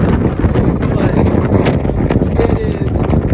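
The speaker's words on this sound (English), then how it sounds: "Sorry about the wind" Wind gusting across an exposed canyon summit on the Red Canyon Tunnel Trail, a steady broadband roar buffeting the microphone throughout, loud and continuous with brief bursts of stronger gusts.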